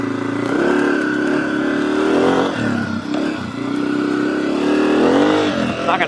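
An off-road dirt bike revs hard in short first gear, its engine note climbing and dropping through several throttle pulls, loud and close throughout with no speech.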